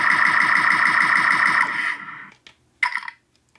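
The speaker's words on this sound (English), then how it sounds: "The A180 firing sound. And then A180 full auto." A rapid stream of buzzy electronic A180 blaster shots from a Star Wars EE-3 prop sound font fires in steady succession, then cuts off, followed by a couple of short trailing bursts.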